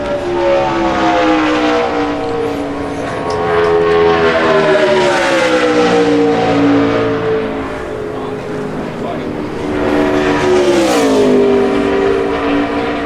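A NASCAR Nationwide Series car runs a qualifying lap at Fontana, its engine a loud, tonal whine that rises and falls as it passes, while a commentator talks over it.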